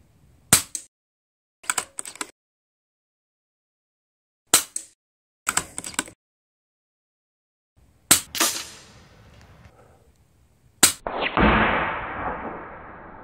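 Sharp, close shots from an URAGAN compact bullpup PCP air rifle firing 8.4 grain pellets, spaced a second or more apart, some doubled by a quick metallic echo or impact, with a rising hiss near the end.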